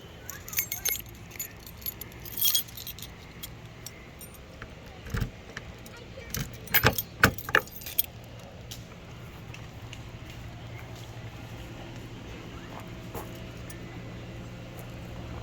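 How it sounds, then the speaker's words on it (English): Keys jangle as they are pulled from a pocket in several short bright bursts, the loudest cluster midway, then fading into steady outdoor background hum. "Always with the keys in the wrong pocket."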